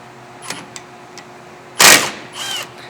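A tool removes the 13 mm brake caliper bolts on a 2015 Ford F150 rear brake, giving a sharp, loud, brief burst of rattling, then a second softer whirr after faint clicks.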